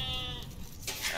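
Sheep in the Age of Empires strategy game bleat briefly near the start, followed by a burst of game effects, loud and close with no talking.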